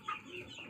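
An Indian-breed hen gives a short, close cluck, a quick burst of throaty clucking heard alone.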